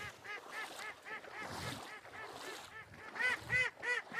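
A group of ducks quacks and honks in a rapid, overlapping chorus, with bursts of loud repeated calls rising and falling close by, no voices.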